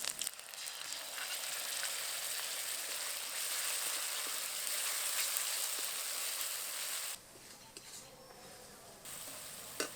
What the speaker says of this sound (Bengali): এবার এর মধ্যে দিয়ে দেবো বাটা মশলা।